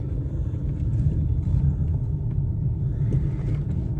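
Steady low road rumble and tyre drone fill the cabin of a used British Racing Green car with 54,000 miles as it is driven, continuous and close, with no talking.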